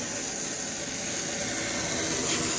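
A new nozzle on a thicker 100-foot garden hose sprays water in a loud, steady, unbroken hiss close by, with no talking.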